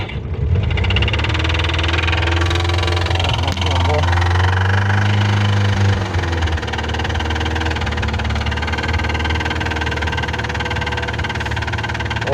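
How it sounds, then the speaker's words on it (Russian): A VAZ-2106 engine runs loud and steady, close by, with a persistent knock in its idling rumble; someone talks over it. "Вот так стучит двигатель."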